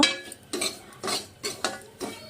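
A spoon stirring dalia rava in a pan as it roasts, five evenly spaced scraping strokes with light metallic clinks, close and fairly quiet, with no talking.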